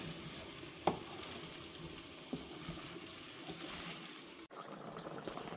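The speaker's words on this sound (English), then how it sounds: "So my stew is bubbling" A pot of Guyanese beef stew with potatoes bubbles softly and steadily, quiet and close, with a couple of brief clicks from the pot.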